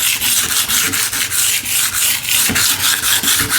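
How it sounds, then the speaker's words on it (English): An old barn window being scuffed with sandpaper, the strokes coming in a steady back-and-forth rhythm of loud, close, raspy rubs with no talking. "I want to sand here mainly and around the edges and then on the back."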